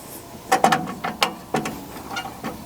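Ratchet working loose a 1/4 inch screw on an HVAC furnace flame sensor, giving several short, close mechanical clicking bursts in an uneven rhythm with brief pauses, no talk.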